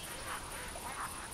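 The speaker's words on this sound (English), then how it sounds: "Oh, here comes some more ducks. I hear them" Ducks quacking in the hunting video game theHunter, with an American black duck among them, a few soft, distant quacks over a steady background hiss, with no speech.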